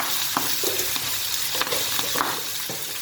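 Fermented pork is stir fried with egg and peppers in a pan, giving a loud, dense, continuous sizzle with scattered scraping and tossing sounds up close and no voices.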